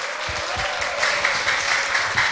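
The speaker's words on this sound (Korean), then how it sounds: "여러분 큰 박수로 환영해 주시기 바랍니다" An audience claps warmly to welcome a poet onto the stage at a literary talk event, a dense, even burst of applause with a few voices faintly mixed in.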